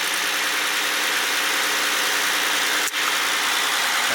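A 2012 Hyundai Veracruz 3.8 four-wheel-drive engine idles with its cap open, giving a loud, steady close-up hum with a faint ticking texture and one brief dip near the end.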